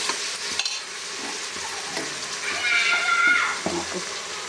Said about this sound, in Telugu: అల్లం వెల్లుల్లి పేస్ట్ వేసి దీన్ని కూడా మంచిగా వేగనిద్దాం పచ్చి వాసన పోయే వరకు